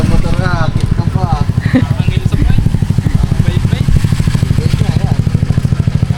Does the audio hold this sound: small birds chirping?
no